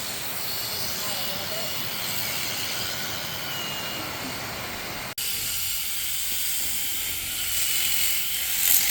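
Electric shears clip a llama's fleece outdoors in the rain, a steady mechanical buzz blended with rain hiss, briefly cutting out midway before carrying on.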